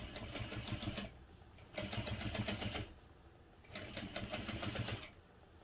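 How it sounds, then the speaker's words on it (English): A sewing machine top stitching the sides of a hobo bag runs in three steady whirring bursts of about a second each, separated by short pauses, close and fairly quiet. "I'm just going to top stitch down both sides using an 1/8 of an inch seam allowance"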